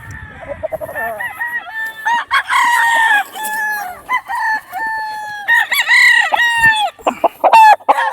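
Gray gamefowl broodstags crowing and clucking up close, with several loud overlapping cock-a-doodle-doo calls and short clucks.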